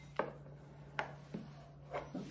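A knife cuts pastry dough into rectangles for apricot Danishes: four or five soft, separate thuds of the blade meeting the board, spaced irregularly and close by, over a faint steady hum.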